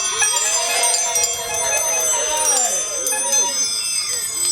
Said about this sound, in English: If you're excited about Critical Mass, ring your bell.